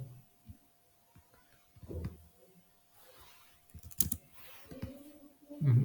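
Someone types a command on a computer keyboard, with scattered soft key taps and a few louder clicks and thumps in irregular bursts over a faint background hum.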